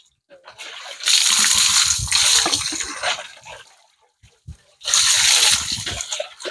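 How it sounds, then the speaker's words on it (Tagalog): Water poured over a person bathing splashes down in two loud bursts with a sloshing pause between them, close by, while someone talks. "Buhusan mo yung likod mo. Buhos ang tubig."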